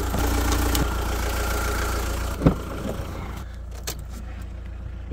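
A diesel engine, just fitted with a new fuel hose, runs at a loud, steady idle with a deep continuous rumble, one sharp metallic clunk midway and lighter rattles later.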